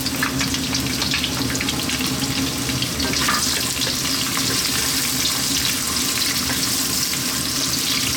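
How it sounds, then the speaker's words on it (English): Onion dropped into hot oil already infused with whole garam masala spices over a lively heat, a loud continuous sizzling hiss that holds steady and close throughout, with no talking. "next up we're going to drop in our onion"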